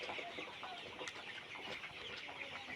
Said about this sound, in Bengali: আর মুরগিগুলো দেখছেন কত চঞ্চল